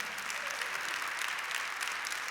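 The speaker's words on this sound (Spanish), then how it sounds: "dale el aplauso si lo quieres dar" A church congregation applauding during a sermon, a steady unbroken wash of many hands clapping at moderate loudness with no voices over it.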